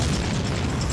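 Heavy, dense explosion rumble from a documentary about the September 11 attacks, a loud, sustained boom filling the whole moment with no voices.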